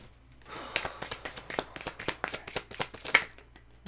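A deck of tarot cards is shuffled by hand in quick, rhythmic bursts of crisp riffling and tapping, close and clear with no talking.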